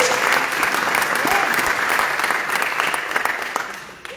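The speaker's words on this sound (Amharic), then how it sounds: "አጨብጭቡ ለዚህ ድምፅ ብቻ" Congregation in a church breaking into dense, steady applause that fills the room, fading slightly toward the end.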